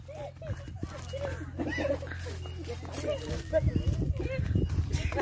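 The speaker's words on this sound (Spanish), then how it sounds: "ahí va el caballo ya" A horse moving outdoors during a ride, with soft clip-clop hoofbeats and animal sounds under steady talking and a low background hum.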